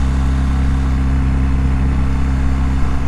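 BMW R 1300 GS motorcycle engine in first gear at about 4000 rpm and 40 km/h, a loud steady low drone with a dense, even mechanical hum and no talking.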